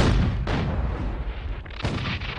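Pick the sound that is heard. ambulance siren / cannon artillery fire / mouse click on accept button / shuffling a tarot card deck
cannon artillery fire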